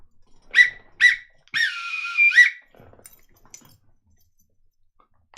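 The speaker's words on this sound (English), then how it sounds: "But we do need to get out the full-time whistle." A referee's full-time whistle sounds alone, two short sharp blasts followed by one longer drawn-out blast, loud and close, then quiet.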